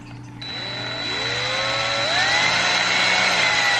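A power drill whirs up to speed and then grinds steadily, its pitch climbing as it bites into a Canon G7X Mark II camera body, close up and continuous.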